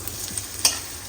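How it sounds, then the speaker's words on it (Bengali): Oil and spices fry in a pan for a raw jackfruit and beef curry, a brief close-up sizzle with light stirring scrapes and one sharper crackle midway. "তেল দিয়ে দিচ্ছি।"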